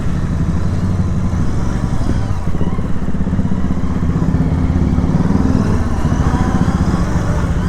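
A Royal Enfield GT 650 in chrome colour rides along a road with its engine droning steadily and close throughout, under a constant rumble with a faint voice in the background.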